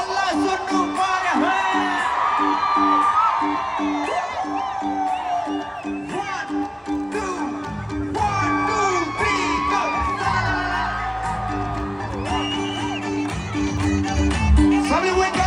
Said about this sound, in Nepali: अब हल्ला सुन्नु पर्यो